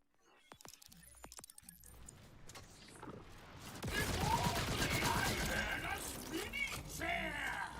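Rapid automatic gunfire from a weapon in a werewolf druid action game, a dense sustained burst building up loud and continuous over the second half, with a few sharp sounds and scattered game effects beforehand.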